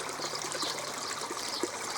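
Water trickles steadily into a low koi pond being refilled from a gravity-fed system, a continuous close splashing hiss with no voices.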